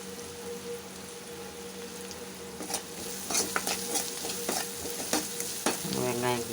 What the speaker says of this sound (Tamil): வெங்காயம் நல்லா வதங்கிடுச்சு.